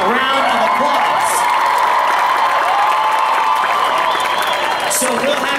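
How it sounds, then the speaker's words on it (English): A convention audience at a Celebration of Harry Potter 2018 celebrity introduction gives loud, continuous applause with scattered cheers and whoops, a full crowd roar close by, with voices mixed in. "Please give them all a warm round of applause."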